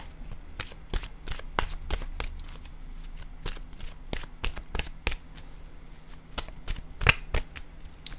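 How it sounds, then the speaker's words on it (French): A deck of oracle cards is shuffled by hand in quick repeated riffles and slaps, a rapid crisp rhythm of papery snaps close up, with no one talking. "Je vais piger une carte de mon oracle de l'âme intuitive"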